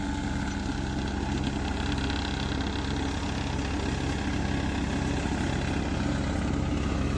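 A tractor engine running steadily at idle after clearing jammed paddy straw, a continuous low throbbing drone that stays constant throughout.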